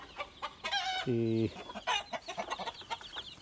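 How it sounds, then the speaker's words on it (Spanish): Hens cluck and chatter in a coop while dust-bathing, with chicks scratching nearby, one drawn-out call standing out amid repeated clucks, a voice briefly heard. "estas gallinas andan bien contentas y andan dando su baño"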